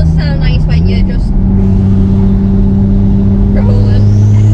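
A 900 bhp Porsche 911 Turbo S convertible rumbles with a loud, steady low engine drone while a person talks over it, the tone shifting slightly as the car rolls.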